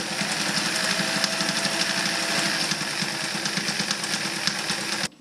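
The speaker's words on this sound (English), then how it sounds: "Makes a nice zigzag stitch, and you can get it down and make a nice satin stitch also." A Singer 319W sewing machine runs steadily through a three-step zigzag stitch, its needle mechanism clattering in a rapid, even rhythm at close range for about five seconds before stopping abruptly.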